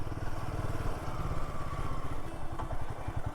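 Royal Enfield Himalayan 450 motorcycle engine running steadily on a solo ride in Kutch, Gujarat, with a loud, even low thrum and mechanical clatter heard close up throughout, with no talk.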